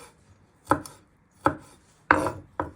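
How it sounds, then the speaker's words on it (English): A knife chopping garlic into little pieces on a board, four distinct, crisp knocks spaced unevenly about half a second to a second apart, close and clear against near silence. "And you just want to chop them into little pieces."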